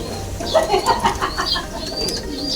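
Young racing pigeons coo in a loft, with several soft warbling calls overlapping close by over a low background hum.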